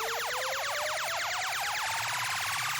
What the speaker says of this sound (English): and this riser sound effect.